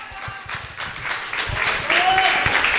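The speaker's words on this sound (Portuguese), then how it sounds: "Aplauda o nome do Senhor." A church congregation applauding, rhythmic clapping from many hands that swells and grows louder, with voices mixed in among the crowd.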